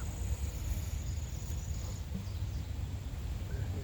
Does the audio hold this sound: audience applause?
no